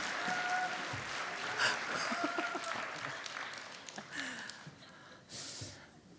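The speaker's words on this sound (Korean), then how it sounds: "이한 목사님 나오실 때 우리 박수하겠습니다." A young adults' Sunday worship congregation at a Korean church claps as the pastor comes up, the applause thinning and scattered, with a few faint murmurs and tones in a quiet hall.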